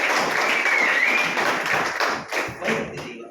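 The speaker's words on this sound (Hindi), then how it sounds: "अपने लिए जोरदार तालियां" A loud, dense burst of applause from a crowd, sustained and then gradually tapering off toward the end.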